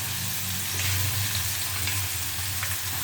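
Dried garlic fries in a pan over lowered heat, giving a steady, moderate sizzle with a low undertone and occasional light crackles.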